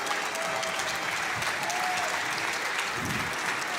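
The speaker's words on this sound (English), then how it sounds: "Give them a round of applause for showcasing the new content." A large crowd applauds at a pro league esports finals reveal event, a continuous wash of clapping that stays even and moderately distant, with a faint tonal hum underneath.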